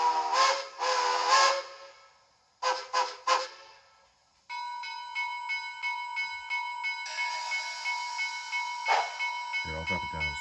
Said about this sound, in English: You know, you got the forward whistle.